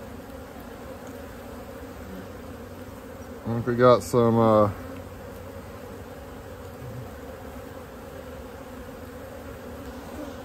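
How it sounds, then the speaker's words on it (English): Honey bees swarm around an opened hive box during a late-season colony check, giving a steady, close hum that runs the whole time, briefly joined by a short spoken phrase. "The bees are fairly calm."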